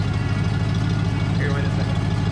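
A Ford F150 pickup's exhaust idles in a steady, deep low rumble with a constant even pulse, close by, while someone talks over it.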